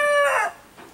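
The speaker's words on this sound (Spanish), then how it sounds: "Mira qué linda está esa pollona." A young hen gives a single short, bright, harmonic call on a farm, close and clear, fading quickly into quiet.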